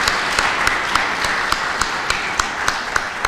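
Audience applause at a talk about surviving seventy days under Azerbaijani blockade: a steady, dense wash of many hands clapping, fairly close and even throughout, with no speech over it.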